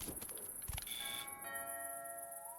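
Doorbell in the Fall of Porcupine video game at the open door of a snowy winter house, a soft quiet chime ringing out a few sustained tones that fade gently after some light clicks.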